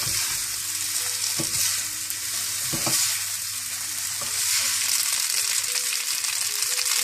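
Boiled noodles for vegetarian Hakka noodles being tossed in a hot pan, a continuous sizzle with soft scraping and occasional knocks of spoons against the pan, close up and without talk.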